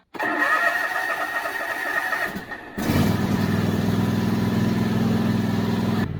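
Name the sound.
Toro zero-turn mower engine starting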